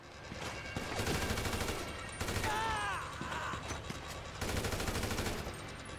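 AK rifle fire in GTA 5 Online comes in bursts at moderate distance, with repeated rapid shots, clicks of mechanism and a brief warbling effect in the middle, under a busy game soundscape.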